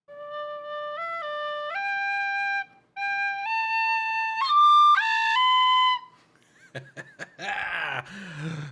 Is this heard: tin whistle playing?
yes